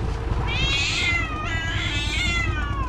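A cat meows twice in drawn-out, fairly loud cries over steady low background noise outdoors in a village.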